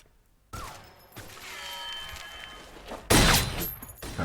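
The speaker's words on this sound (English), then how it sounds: "every single gunshot noise in this was bespoke, so they're all different" Gunfire from the action film Free Fire, each bespoke shot distinct: scattered loud cracks and thuds with sharp bursts, a dense volley near the end, heard alone.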